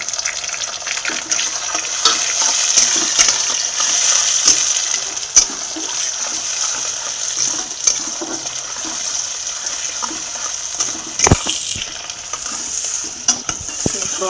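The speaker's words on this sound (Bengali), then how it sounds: "তো আমার টমাটো দিয়ে পেঁয়াজ ভাজা হয়ে গেল" Tomatoes and onions frying together in a wok, a steady close sizzle with bursts of stirring and scraping, no voices.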